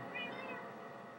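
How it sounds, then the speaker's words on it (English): A house cat lets out a short, faint meow over a steady background noise, with no voices. "Okay, well, this is my cat,"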